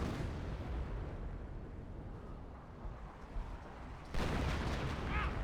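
An M2 artillery barrage in the strategy game Company of Heroes, heard as a continuous low rumble of distant shell impacts that swells into a louder burst of explosions near the end.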